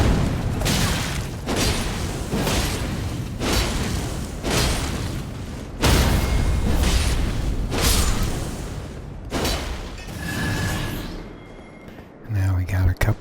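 A small enemy on stairs in Elden Ring fires holy and fire attacks, landing as a string of loud, rhythmic whooshing blasts and booms about once a second, with a voice talking over them.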